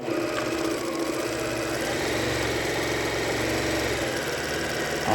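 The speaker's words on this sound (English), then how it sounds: "Now I'm going to go ahead and sew those top seams like I showed you." A sewing machine runs continuously, stitching the top seams of a reversible Christmas tree fabric gift bag, a steady close mechanical whir with a fine rapid rattle throughout and no pauses.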